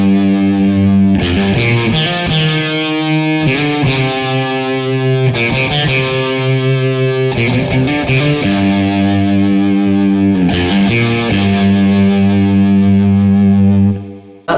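Distorted electric guitar through effects pedals and reverb plays a riff, a loud, sustained chugging figure with ringing notes repeating in phrases and no talking.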